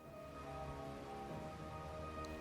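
Faint, steady rain falls during a thunderstorm in the visual novel Graces: Posthumous Wish, a continuous soft hiss with low rumbling underneath and no voices.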